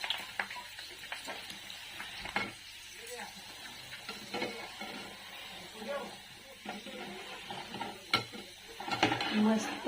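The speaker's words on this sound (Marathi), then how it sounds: "हे बघा तळायचं चालू आहे." Puris for pani puri fry in oil at home, a soft crackling sizzle with scattered clatter of utensils and someone talking over it now and then.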